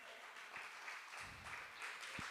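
An audience at a keynote event keeps up steady, dense applause for a performer, moderately loud and continuous, with a few low thumps underneath and no speech.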